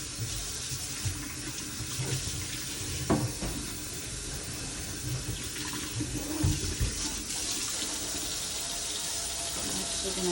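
Kitchen sink tap runs steadily as water rinses the basin, a continuous close splashing hiss that fills the whole stretch with small surges.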